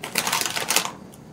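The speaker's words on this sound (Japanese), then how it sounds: "ガサガサ言うけど。" A bag of homemade karinto, a sweet fried dough snack, is handled up close, giving a dense crinkly rustle of plastic packaging for about a second before it fades.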